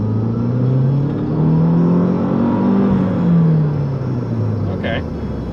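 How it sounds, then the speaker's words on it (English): A 2012 Mazdaspeed 3 accelerates hard at wide open throttle toward about 50 mph, its engine note climbing and droning loudly and steadily from inside the car. "I'm gonna go wide open throttle up to about 50 miles an hour"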